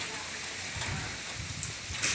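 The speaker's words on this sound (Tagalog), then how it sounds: "sobrang lakas ng ulan" Heavy rain pours steadily outside a house, a dense continuous hiss of drops on surfaces at moderate level, with a few louder splashes near the end and no clear talk.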